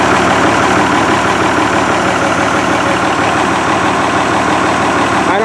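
An Oliver tractor with a Hydra Power underdrive runs steadily as the clutch is let out, giving a loud, continuous low engine drone with a fast, even chugging throb and no talk over it.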